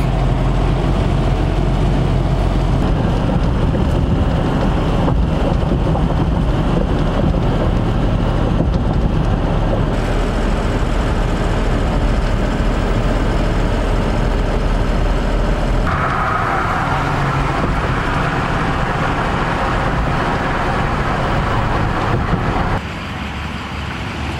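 A car drives along the road toward Duluth, Minnesota, giving a steady, loud rumble of engine and road noise that continues unbroken and eases slightly near the end.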